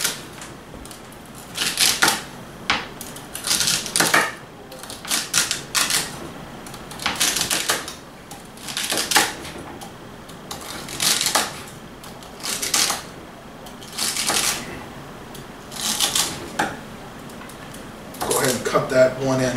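A knife chops celery into half-inch pieces on a cutting board for a home-made beef stew, giving a series of sharp, close, rhythmic cuts in quick clusters with short pauses between them.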